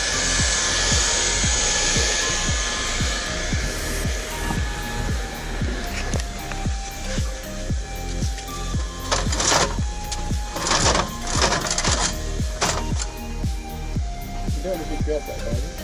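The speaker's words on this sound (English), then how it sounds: "proves to be pretty handy with the heat gun" A heat gun blows hot air during replacement of a capping rail with recycled composite plastic, a steady close airy whoosh overlaid with rapid rhythmic clicking and tapping, with occasional sharp bursts in the middle.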